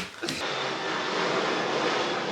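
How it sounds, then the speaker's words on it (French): Airplane engine roar from aircraft flying low over a hotel beside Montego Bay airport in Jamaica, a steady loud broadband rumble that fills the whole stretch, with a brief rustle at the start. "on est vraiment à côté de l'aéroport, du coup on entend tout le temps des avions"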